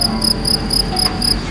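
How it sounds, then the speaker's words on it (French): Crickets chirp steadily in a Provence-themed setting, a loud, continuous high trilling pulsing in regular bursts about every quarter second over a low ambient hum, with no talking. "Ferme les yeux, écoute chanter les grillons."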